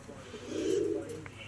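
Loft-kept pigeons give a single low, soft coo that swells and fades over about a second, faint and close with light background noise and no talk.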